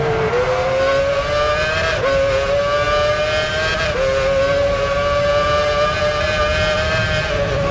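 Formula One race cars in the PS3 game Formula One Championship Edition at Melbourne, a loud, close, steady high-revving engine whine with a few gear-shift dips, continuous throughout with no talking.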